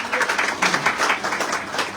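A Hindi-speaking audience at a network marketing business talk claps for the women among them, a steady, dense spread of crowd applause carrying evenly through the short stretch with no speech.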